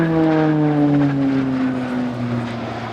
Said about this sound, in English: Single Pratt & Whitney Canada PC-9M turboprop of 950